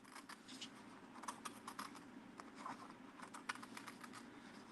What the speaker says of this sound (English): So I'm going to take my scissors and I'm going to cut out a circle.